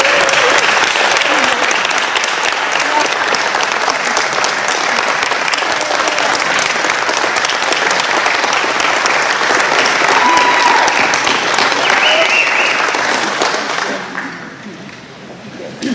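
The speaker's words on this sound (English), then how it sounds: "Let's give Mary a big round of applause." An audience at a club meeting gives a sustained round of dense applause, loud and even, before it thins out and fades over the final couple of seconds.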